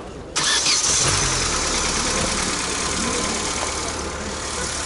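A car engine cranks and catches at an outdoor used-car market in Tajikistan, then settles into a loud, steady idle that carries on to the end with no voices over it.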